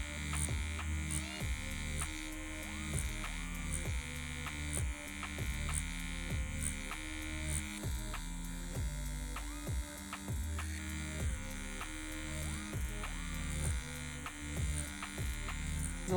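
Rotary tattoo pen motor buzzing steadily while tattooing, run at higher voltage for stippling, a close continuous electric hum with faint rhythmic ticks and no talking.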